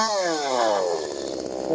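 STIHL MS 192T chainsaw running with a skip, its close, loud buzzing engine dropping in pitch then sputtering unevenly as it falters.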